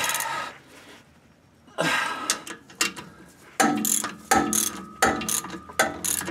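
A ratchet clicks loudly and close while tightening bolts on a Ford 8-inch differential in a Mustang. Bursts of rapid pawl clicking come after a quiet pause, with short breaths between strokes.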